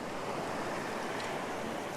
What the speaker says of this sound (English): we'll start to get some water rushing over these rocks